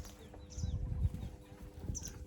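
Hens kept in a tub indoors on a farm, with faint, brief clucks and a few soft wing flaps close by in a quiet room.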